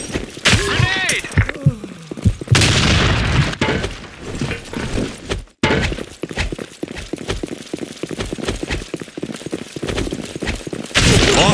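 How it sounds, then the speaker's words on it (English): A grenade goes off in the online shooter Blackshot, a loud broadband blast near the two-and-a-half-second mark amid dense clattering gunfire and game effects, with a brief silence partway through. "Grenade!"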